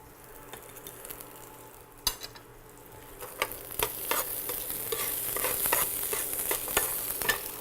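Butter sizzles in a hot frying pan with a soft hiss that builds gradually, broken by scattered clicks and scrapes of stirring, close but fairly quiet, no talking.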